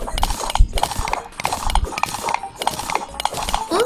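Horse mount in Terraria, its hooves clip-clopping in rapid repeated bursts of galloping steps, loud and busy, with some game noise underneath and no talking.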